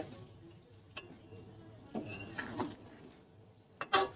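A spoon turns poppy seed cauliflower curry in a pan, giving faint, sparse clinks and scrapes at irregular intervals, with a louder clatter near the end; no voices.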